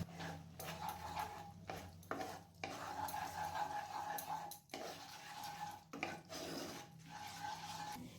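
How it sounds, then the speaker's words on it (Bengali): Whole cinnamon, cardamom and cloves tempering in hot oil, a soft sizzle broken by scraping stirs of a spatula against the pan, faint and close, with occasional clinks. "একটা ছোট টুকরো দারচিনি, দুটো ছোট এলাচ আর 4টে লবঙ্গ ফোড়নের জন্য দিয়ে দিচ্ছি।"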